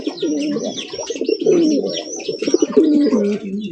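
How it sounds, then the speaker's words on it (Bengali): A black Maltese pigeon coos close by in a rapid series of deep, rolling, throaty calls that run almost without pause, with brief higher chirps mixed in. "ডাক দেখেন এরকমের পাগলা মাল্টেস কবুতর"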